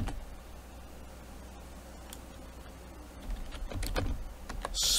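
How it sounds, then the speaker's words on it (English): Scattered clicks of computer keys being typed, soft and close, a few quicker taps near the end, with no talking. "So we're going to go and type in"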